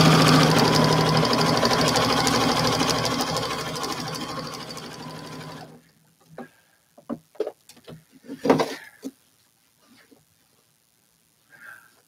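A sewing machine outlining a quilt runs loud and continuous with rapid buzzing stitches for about five and a half seconds, then stops, leaving scattered soft handling clicks and knocks.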